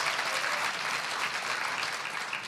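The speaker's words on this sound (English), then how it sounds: "Let's give them a big round of applause" An audience at the annual general meeting of the South African Network for Women in Transport applauds the interim council, a full, even, continuous burst of clapping from a crowd.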